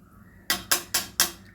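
A spoon clanks against a pot four times in steady strokes as rice is stirred for chicken biryani in a pressure cooker, close and sharp, with no talk.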